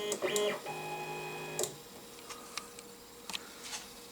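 Weedo Tina2 mini 3D printer powering on: a brief startup chime with a sustained electronic tone, followed by faint ticks and clicks as its display lights up.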